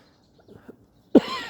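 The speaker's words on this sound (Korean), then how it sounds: "아침에서 그런지 공기가 좀 차서 그런지 기침이 나오는 거 양해하십시오" A single sharp cough bursts out near the end, made outdoors in cold early-morning air during a meditation session, preceded by faint quiet breathing sounds.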